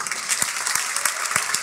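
A seminar audience claps steadily in a short burst of applause with crisp, dense hand claps and no talking.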